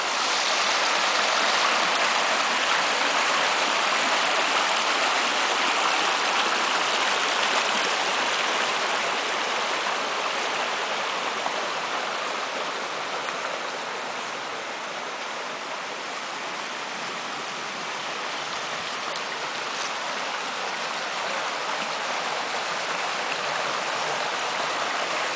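A flowing stream in a restored brook trout habitat in the Pennsylvania backwoods, with depth pools and a running riffle, rushes as a steady, loud, broadband wash with no voices throughout.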